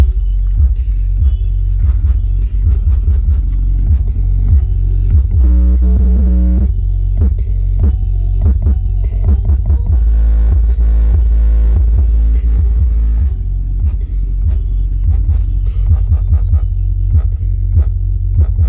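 Two 12-inch Rockford Fosgate P1 subwoofers installed in a 2019 manual Volkswagen Jetta pound out loud, throbbing bass that rumbles continuously and fills the car, with rhythmic music pulses on top and no talking.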